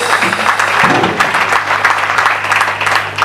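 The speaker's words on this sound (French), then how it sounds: "Si j'étais à votre place, j'allais applaudir." A crowd at a 15th anniversary ceremony breaks into loud, sustained applause, dense clapping that stays steady throughout over a low electrical hum.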